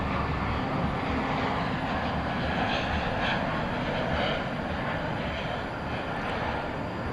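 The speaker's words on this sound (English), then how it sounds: "Got a flight coming in from Midway Airport in Chicago. It's an Airbus" Airbus A320neo inbound from Chicago Midway arriving at DFW Airport at night: a continuous broad jet engine roar, loud and steady throughout, with no talking.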